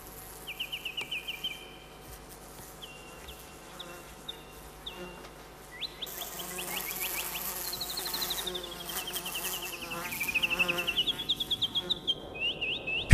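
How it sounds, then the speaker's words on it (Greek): Honeybees buzz steadily around hives as they are checked in a lonely, remote landscape, with close passes of individual bees rising and falling in pitch over a constant hum. "ελέγχει τις μέλισσες, τις μόνες συντρόφισσες στο απόλυτο μοναχικό τοπίο"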